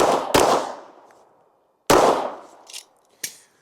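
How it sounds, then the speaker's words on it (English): A Ruger RXM pistol firing 115 grain Blazer ammunition outdoors: two loud, close sharp reports followed by a third single shot, each with a ringing echo tail, no voices. "Let's shoot a couple doubles here just to get a feel for it."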